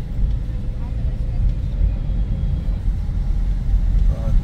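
Car engine pulling away from a stop and working up through first, second and third gears on a city street, a steady low rumble throughout with a voice talking over it.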